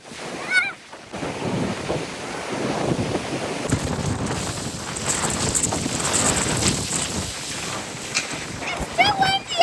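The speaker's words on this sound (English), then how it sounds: "It's too windy." Strong wind from a severe winter storm in Alaska buffets the microphone in a steady roar, with surf-like rushing and faint voices underneath.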